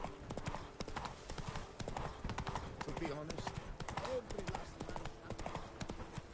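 Hooves of Roach, the horse in The Witcher 3, clip-clop in a steady walking rhythm, close and clear, with a brief soft snort or whinny partway through.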